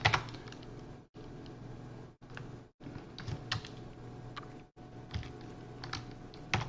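Fast, busy typing on a computer keyboard as commands are entered on a Windows 10 PC, with dense clattering runs of keystrokes broken by a few brief pauses, close and fairly loud.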